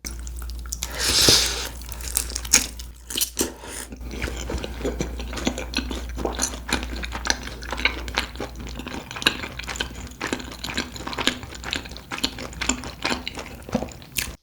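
Close, crisp crunching and clicking of someone chewing fried tteokbokki rice cakes, steady and continuous over a low background hum.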